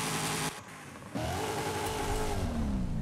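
A twin-turbo Nissan S15 drift build in Forza Horizon 5 revs loudly, drops to a lower idle for a moment, then climbs back into a sustained, rising engine drone, close and alone.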